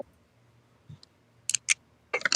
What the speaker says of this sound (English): I don't want to hear your keys scratching my ears